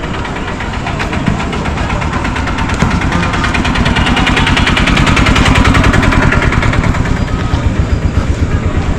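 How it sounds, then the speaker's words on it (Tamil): A train engine at Dwarka station chugs loud and near in a fast, steady pulsing beat that builds slightly. No voices come through over it. "ஒரு இன்ஜின் இருக்கு."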